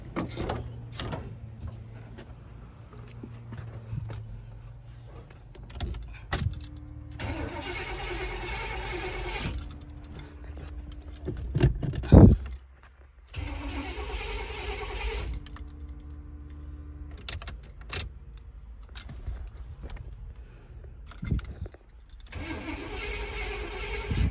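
A 1986 Brougham car with an HEI distributor cranks in several separate bursts, with pauses of near silence between them and a sharp clunk midway, close and moderately loud with no talking.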